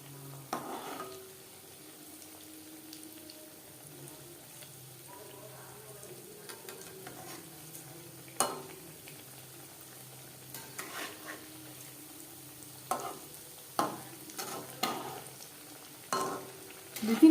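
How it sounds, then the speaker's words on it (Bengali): Vegetable chops fry in hot oil with a low, steady sizzle, broken by scattered sharp knocks and scrapes as they are turned over until crispy. "দু তিনবার উল্টে পাল্টে ক্রিস্পি করে ভেজে নেব।"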